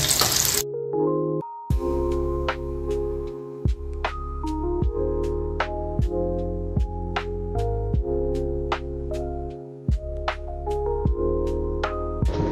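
Leftover seekh kababs frying in a pan, set against a persistent tonal hum with repeated sharp clicks and taps spaced through the sound, fairly loud and steady with no speech.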